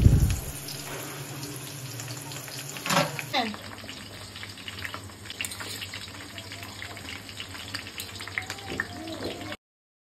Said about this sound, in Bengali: আমি একটা কড়াইতে তেল গরম করে 1 চা চামচ পরিমাণ 5 ফোড়ন দিয়ে নিলাম। এরপর এক এক করে আমি জলপাইগুলো দিয়ে দিব।